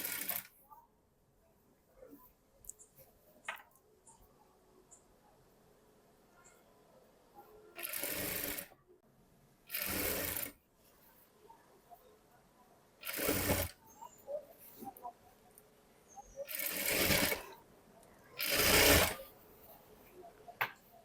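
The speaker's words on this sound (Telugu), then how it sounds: "నెక్ చుట్టూ కూడా మొత్తం రౌండ్గా స్టిచ్ చేయాలి" A sewing machine stitches around a blouse neckline in loud, rapid whirring bursts, five runs of one to two seconds each separated by quiet pauses, with someone talking softly in between.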